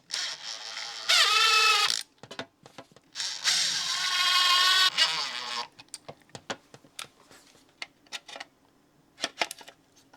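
A drill spins a center drill to pre-drill pilot holes for mounting a Wiha electrician's level, giving two loud, whining bursts of about a second each, followed by scattered clicks and taps close by.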